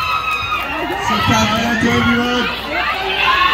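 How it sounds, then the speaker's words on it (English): Cheering and shouting from a crowd at a K-pop and P-pop fan event at PPOPCOM, loud and close, with excited voices and a person speaking over the noise. "Give a big round of applause to all people out here supporting K-pop"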